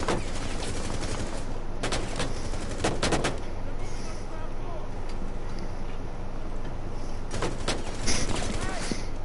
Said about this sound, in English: Oh crap, I'm getting shot at by another one.